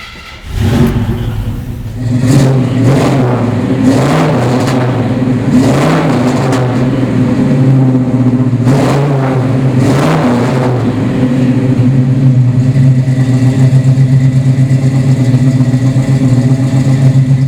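A 1967 Chevrolet Impala SS 396 V8 cranks and fires up, then is blipped through several loud revs before settling into a steady, rumbling idle close to the listener.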